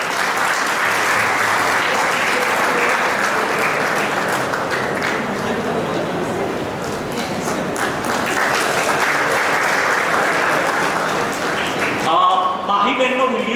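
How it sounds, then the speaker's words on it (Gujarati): Sustained, dense applause from an audience at a college's 32nd annual function during a prize presentation, steady and loud for about twelve seconds before it cuts off and a voice begins speaking. "ખૂબ તાળીઓથી સ્વાગત કરો."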